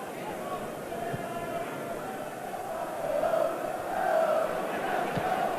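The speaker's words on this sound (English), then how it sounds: "The applause of the crowd signifies that Ken McNaught is fit" A football crowd at a 1981 league match between Aston Villa and Notts County applauds and murmurs as a steady distant roar that swells slightly, while a commentator speaks over it.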